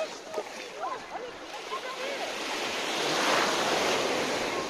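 Ocean waves wash onto the beach at Praia Daniela in Florianópolis, Brazil, a steady broad surf roar with wind noise, rising slightly toward the end, with faint brief sounds early on.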